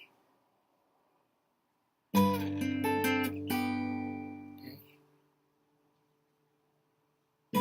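A guitar plays a pattern quickly, bright strummed chords and picked notes ringing clearly for about three seconds, then a long sustained chord fading out after a silent start.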